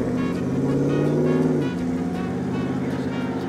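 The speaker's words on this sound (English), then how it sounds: "Well, don't you have a loud truck?" A loud truck drives past on a road, its deep droning engine steady and close before the pitch drops sharply as it goes by, leaving a lower rumble.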